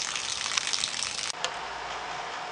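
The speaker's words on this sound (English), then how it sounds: "Now the water is running off the roof." Water from a garden hose runs off a house roof with a steady broadband gushing splash and one brief interruption partway through.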